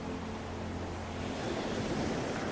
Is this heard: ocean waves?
yes